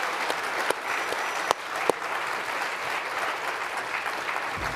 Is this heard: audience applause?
yes